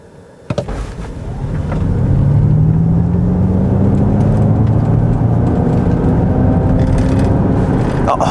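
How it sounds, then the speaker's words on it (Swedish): A Ford Mustang Mach-E SR AWD electric car plays its artificial low humming propulsion tone meant to suggest a V8, rising in pitch after a click and then settling into a steady, loud drone. "ett lågt brummande ljud som ska föreställa någon form av en V8 vroom"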